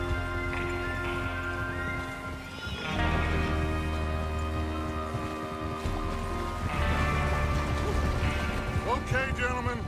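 Horses in the Red Dead Redemption 2 game whinny and snort while hooves clop, with rain pattering in the background, during a gang's preparation to rob a train; the sounds are fairly close and continuous throughout.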